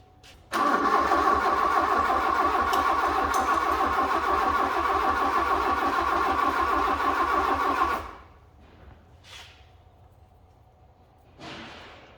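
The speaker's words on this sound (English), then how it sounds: "So now let's crank it over." A Fiat Punto GT engine cranks over steadily for several seconds with a rapid rhythmic churn, then stops without starting, followed by faint clicks and quiet.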